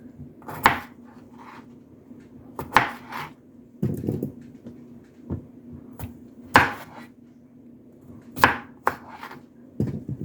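Scrubbed red potatoes are cut on a board, with sharp, irregular knife strikes landing every second or two and a quiet kitchen hum between them.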